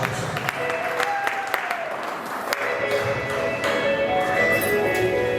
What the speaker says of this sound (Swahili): Inasikolo pigia Yesu makofi.